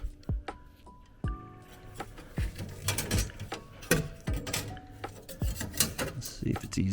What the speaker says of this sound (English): I'm just slowly wiggling it around until we get that off.